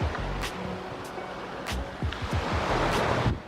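Waves wash onto a pretty beach at Mochimune, Japan, a continuous rushing surf with a few sharp knocks and thumps nearby, moderately loud with no voices.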